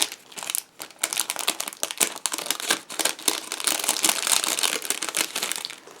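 A plastic package of craft shadow dies is torn and opened by hand, giving close, continuous crinkling and crackling for several seconds with no talking.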